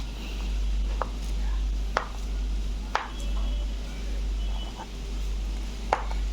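A knife cuts paneer into pieces on a board, making sharp, separate clicks about once a second over a low steady hum in a home kitchen.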